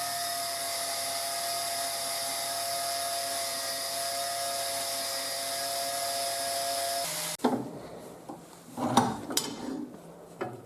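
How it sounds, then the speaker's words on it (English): An angle grinder cutting steel on its own along a DIY sliding guide with a drive, a loud steady high-pitched whine for several seconds that stops abruptly, followed by metallic clatter and handling knocks. "Are you interested in what I did to make the grinder cut steel by itself?"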